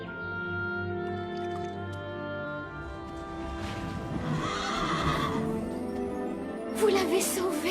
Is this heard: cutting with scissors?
no